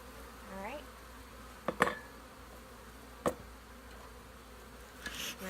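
Honey bees buzzing around an open hive during a beehive inspection, a steady low drone in the background, broken by a few sharp knocks and clicks from handling the hive.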